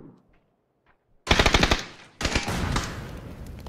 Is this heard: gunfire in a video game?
yes